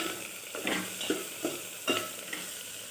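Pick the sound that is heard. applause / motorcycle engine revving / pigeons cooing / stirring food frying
stirring food frying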